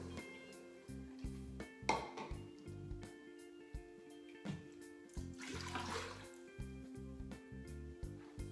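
Chicken broth is poured into an Instant Pot in a couple of soft splashing gushes over a faint steady hum, quiet and close.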